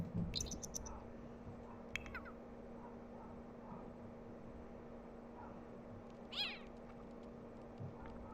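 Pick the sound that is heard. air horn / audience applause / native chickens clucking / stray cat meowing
stray cat meowing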